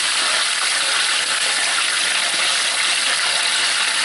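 Chicken pieces frying in hot oil, a loud, continuous hiss and sizzle that holds steady throughout with no voices.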